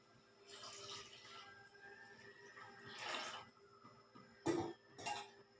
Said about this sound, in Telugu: సో ఫస్ట్ అయితే కొంచెం వాటర్ పోసేసుకుందాం